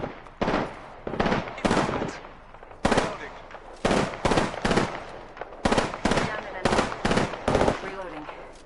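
Rapid bursts of automatic gunfire in the battle royale video game Apex Legends, loud and close, firing in repeated short volleys with brief gaps between them.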